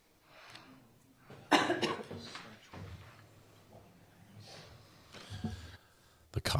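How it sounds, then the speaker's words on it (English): Several coughs burst out at intervals, some loud and harsh, amid a courtroom with people talking quietly during a murder trial. "The coughing has accelerated exponentially."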